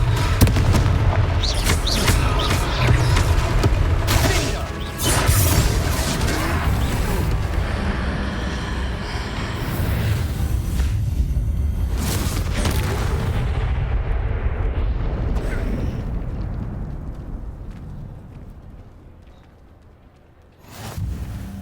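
Confringo fire-spell explosion in the video game Hogwarts Legacy; a loud, deep booming blast with rumbling, crackling debris that swells and lingers for many seconds before fading, then a short thump near the end.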